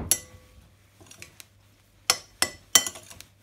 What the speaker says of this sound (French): du poivre du moulin, et on mélange à nouveau